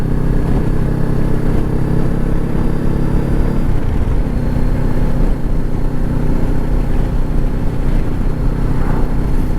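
Motorcycle engine while riding out on a break in the weather: a steady, loud droning hum mixed with heavy wind rush, continuous throughout, with no talking.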